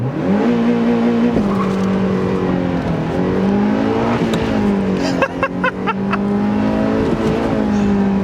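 Mazda MX5 engine held at a steady high rev with a sustained buzzing drone, then stuttering as it bounces off the rev limiter in rapid pulses, loud and close from inside the car.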